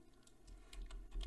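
Quiet clicking taps on a computer keyboard, a short run of typing heard faintly and close, with no speech.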